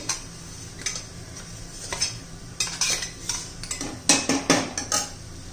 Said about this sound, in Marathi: ते हे तेलामध्ये चांगलं परतून घ्यायचंय.